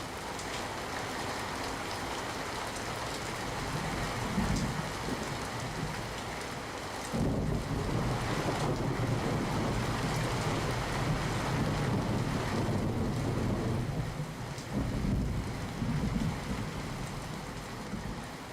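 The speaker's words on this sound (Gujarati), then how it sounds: "ઉપરવાસના ગ્રામ્ય વિસ્તારમાં વરસાદને પગલે રાયડી નદીમાં પૂરની સ્થિતિ સર્જાઈ છે" Heavy rain and the floodwater of the swollen Raydi river in Amreli make a continuous rushing roar, with gusty wind buffeting the microphone throughout.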